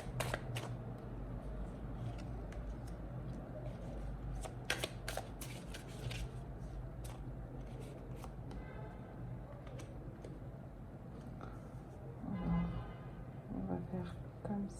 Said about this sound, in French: nous allons tirer toutes les cartes et ensuite les retourner ensemble